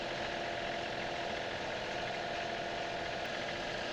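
A tractor engine runs steadily at an outdoor steel-frame shop build site, a continuous mid-pitched idling drone with no talk over it.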